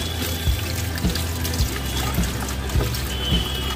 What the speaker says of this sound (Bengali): এই জারের মধ্যে এইখান থেকে এইরকম জল তোলো আর এইরকম ছাঁকো।